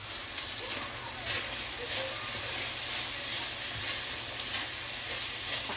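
Chicken and stalks of pechay baguio sizzling in a pan, a steady, close hiss of frying that runs without a break, with faint stirring and light talk in the background.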